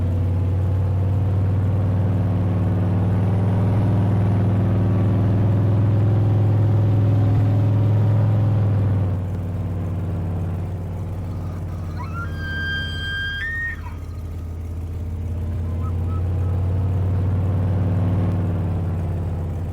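Vehicle engine in Farming Simulator 22 driving slowly along an unplowed snowy back road, a steady low rumble and drone throughout, heavier in the first half and easing later, with a brief faint whine in the middle.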